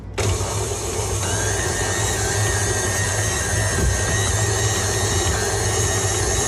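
A stand mixer kneads focaccia dough at higher speed, a loud, steady motor whine and hum that switches on abruptly and runs continuously without pause.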